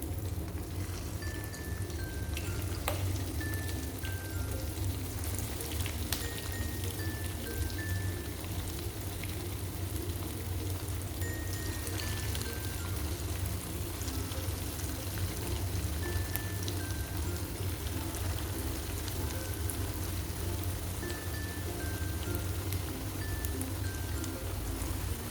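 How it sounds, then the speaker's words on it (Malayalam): Chicken pakora pieces frying in hot oil, a steady dense sizzle that runs unbroken for the whole stretch, fairly even in level with no talk over it. "കുറച്ച് വെച്ച് നമുക്ക് തിരിച്ചും മറിച്ചും ഇട്ട് കൊടുത്തൊക്കെ ഫ്രൈ ചെയ്തെടുക്കാം."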